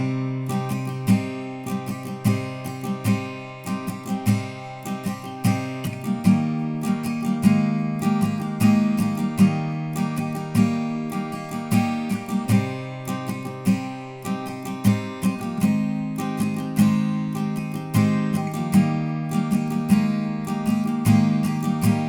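Acoustic guitar strumming the verse chords of a song, a steady rhythmic pattern of chord changes played alone and up close at an even volume.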